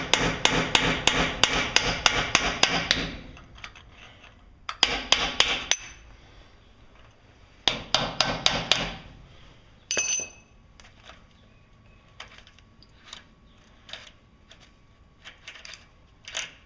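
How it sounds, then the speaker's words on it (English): Repeated sharp hammer blows on a chisel, struck to loosen a tightened brake part on a vehicle with brake drums, come in fast rhythmic bursts with pauses between, followed by scattered lighter metallic taps and clinks. "So we're going to loosen it with a chisel."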